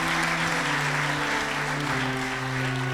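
Audience applause at an Arya Samaj scholarship event, a steady wash of many hands clapping continuously under a low sustained hum.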